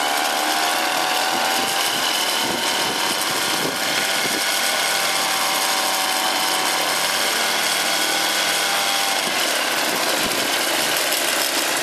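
A 49cc egg motor engine on its first test run, its carburettor running rich, gives a loud, steady, raspy buzz with a ratcheting rattle that holds on without a break and with no voices over it.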